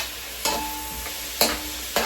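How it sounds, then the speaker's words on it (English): Carrots and celery fry in olive oil in a soup pot, a steady close sizzle broken by three sharp scraping stirs at regular intervals, with no talking. "Carrot and celery cooking, frying up a little bit in some olive oil."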